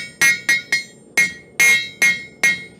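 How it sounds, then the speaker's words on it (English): Blacksmith's big hammer striking hot metal on the anvil horn, seven loud ringing metallic blows in an uneven rhythm, each with a bright ring that decays quickly, close and alone without talk. "Easy there, big hammer."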